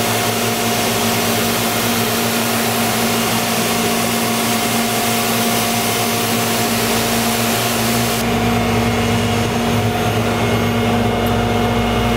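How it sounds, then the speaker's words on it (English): IMPACTS S270E-75R shot blaster, a 10.5-inch walk-behind machine, blasting a concrete floor with a loud, constant roar and steady hum that brightens and hisses harder partway through as blasting begins. "when we start this off, we want to start traveling as we start blasting"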